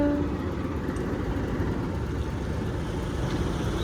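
A Jenggala commuter train hauled by a locomotive at Indro station, a steady low rumbling drone of engine and rolling wagons, continuous and moderately loud with no breaks.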